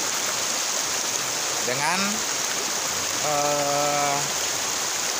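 Water rushing at the confluence of the Cikeas River, a steady broadband flow filling the scene, with a voice speaking briefly over it.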